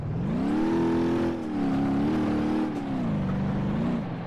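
A simulated car engine in BeamNG Drive revs hard near the redline, a loud steady drone whose pitch rises and dips with throttle changes and short lifts between pulls.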